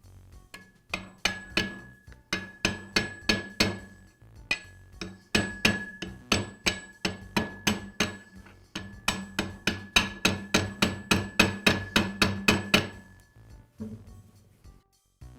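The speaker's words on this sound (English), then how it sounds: "use a large socket to tap it into place" Wheel bearing (BB-6202ZZ) being tapped into a Jet band saw wheel with a large socket: a long series of sharp metallic hammer taps, close and loud, coming in quick rhythmic bursts with short pauses between groups, no talking.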